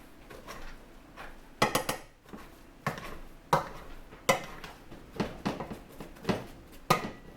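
Potatoes being mashed in a pot with butter and salt, repeated rhythmic thuds, scrapes and clinks of the masher against the pot, close and fairly loud, with no talking.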